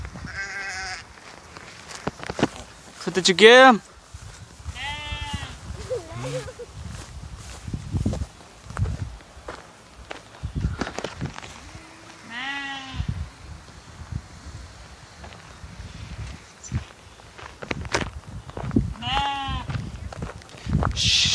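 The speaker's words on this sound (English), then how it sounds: "Look at that, look at them, they're sheep." A flock of sheep running off outdoors bleats repeatedly, loud and wavering, with several calls spread throughout. Shuffling movement and brief human voices sound between the calls.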